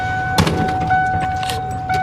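A worn truck door is lifted and slammed shut in a garage, one sharp thump followed by faint rattles, with a steady hum in the background.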